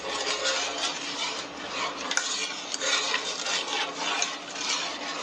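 A spoon stirs cranberry sauce with dissolving sugar in a pot, giving a steady close scraping and swishing with light clinks against the metal sides, continuous throughout.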